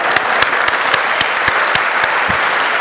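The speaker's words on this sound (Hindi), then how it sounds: "जोरदार तालियां आपके लिए" Students at a college orientation break into loud applause, a dense wash of many hands with a few sharper claps standing out, close and strong throughout.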